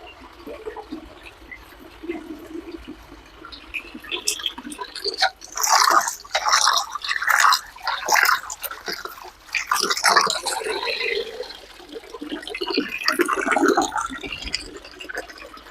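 Water splashes and trickles from freshly washed moringa leaves as they are handled and drained in a basket, close uneven sloshing bursts and drips that come and go over several seconds with faint talk underneath.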